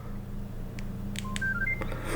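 A Nokia 2700 Classic mobile phone gives a few short electronic beeps and key tones after its middle button is pressed, close and clear over a faint hum.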